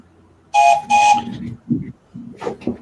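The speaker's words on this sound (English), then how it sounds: "More like a steam train, in my opinion." A steam train whistle sounds two quick, loud blasts in a row, followed by a few softer, lower murmurs and breathy noises.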